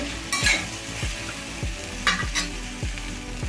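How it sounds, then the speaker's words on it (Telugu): Okra (lady finger) frying in a pan, a steady sizzle broken by repeated rhythmic scrapes of a spatula stirring about every half second, close and clear with no talking. "ఒక్కసారి అయితే మూత పెట్టి అయితే వేయించుకుందామండి"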